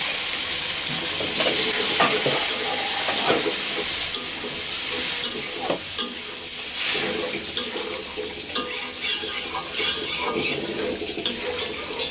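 Spice paste with cumin, salt, coriander, turmeric and chili powder sizzles and fries in a pan while being stirred, a steady loud crackle with scraping strokes throughout, no voices.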